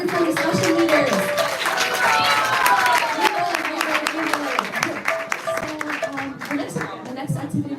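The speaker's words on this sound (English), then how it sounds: "Let's give another round of applause to our wonderful discussion leaders." An audience applauds its discussion leaders at a Sunday feast program, with steady clapping running through the clip amid crowd voices and cheering.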